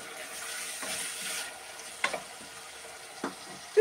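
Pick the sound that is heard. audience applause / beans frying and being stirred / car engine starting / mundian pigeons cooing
beans frying and being stirred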